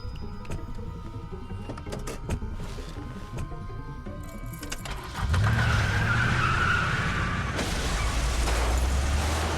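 A car in The Walking Dead video game starts and pulls away, its engine surging loud and close after a few seconds of faint clicking and rattling, then holding a steady roar with a tire-like squeal.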